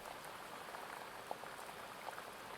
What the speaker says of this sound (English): You can hear the heavy rain pounding on the glass dome